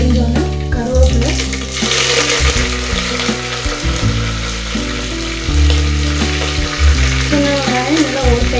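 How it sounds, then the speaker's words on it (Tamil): Mustard seeds and curry leaves fry in hot oil for a Tamil poricha kulambu, giving a steady loud sizzle with crackling bursts while background music plays throughout. "கடுகு நல்லா பொரிஞ்சோன்னா கருவேப்பிலை,"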